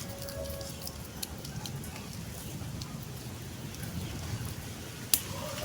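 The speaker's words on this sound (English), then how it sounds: "There's just lots of rain." Heavy rain falls steadily on a small urban farm, making a soft, even hiss and patter across the whole stretch, faint and distant, with one sharp tap near the end.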